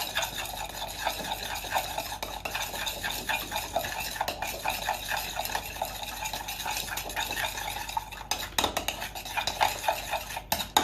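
Spicy mayonnaise is mixed briskly in a bowl, a fast rhythmic scrape and tap of a utensil against the sides repeating steadily, close and alone.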